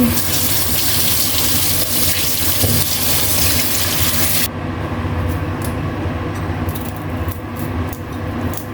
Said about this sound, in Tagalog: Hugasan at balatan.